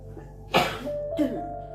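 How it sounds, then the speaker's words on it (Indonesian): A woman coughs twice, a sharp burst followed by a smaller second one, close and fairly loud over a quiet room with a faint steady hum. "Maaf ya kakak batuk, di skip saja kalau terganggu."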